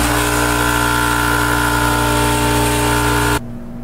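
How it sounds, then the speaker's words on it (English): An old air compressor with no unloader runs loudly and steadily with a harsh droning hum, then cuts off abruptly near the end, leaving quiet background. "Here's my old compressor. Listen to how loud and obnoxious this thing is."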